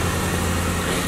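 A Subaru engine idling roughly at about 1200 rpm with a severe misfire, heard up close as a loud, steady low rumble with an uneven throb and the whole car shaking, with no talk.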